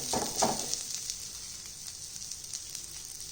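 Vegetable cheela batter sizzles on a hot tawa over a low-to-medium flame with a steady close hiss, louder for a moment at the start, then settling into a soft, even fizz with faint crackles and no talking.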